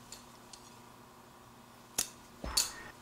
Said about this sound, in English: then I'll cut this yarn